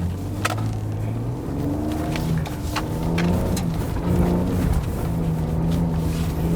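A Ford Ranger Raptor pickup accelerates hard off road, its engine droning steadily and rising in pitch over several seconds, loud and close with no talking.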